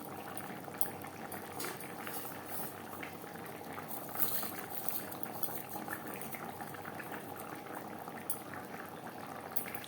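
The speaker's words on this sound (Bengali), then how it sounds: "4-5 মিনিট গ্রেভির সাথে ডিম বেশ ভালো করে ফুটিয়ে নেওয়ার পর" Egg and potato curry gravy with eggs boils steadily in a pot, a dense, continuous bubbling that stays close and even throughout, with no voices.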